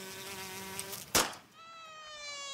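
A fly buzzing close by, a thin whining drone with shifting pitch that is cut by a brief burst of noise and then resumes, faint and steady, with no talk.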